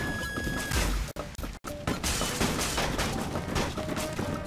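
Explosions in the video game Goat Simulator, a rapid barrage of loud crashing blasts and bangs packed densely across the whole stretch, with brief gaps of silence near the start.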